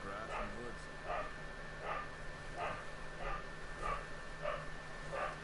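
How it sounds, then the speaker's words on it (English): Dogs playing in a room bark and yip in short repeated bursts at a steady rhythm, moderately near, over a low background hum. "Sorry if you hear the barking."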